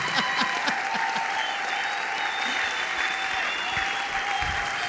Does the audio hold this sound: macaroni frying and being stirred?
no